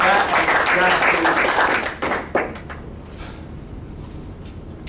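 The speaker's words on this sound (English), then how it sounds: "let's all give her a round of applause" Audience applauding at a meeting, a dense wash of clapping for the first two seconds that fades and tapers off into quieter room noise with brief talk.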